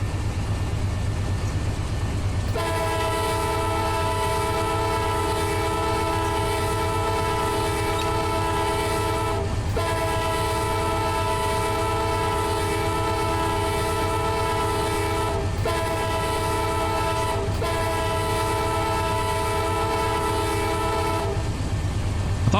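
A locomotive horn in a train video game blows at a whistle post in long loud sustained blasts separated by brief gaps, over a continuous rumble of the train rolling along the rails.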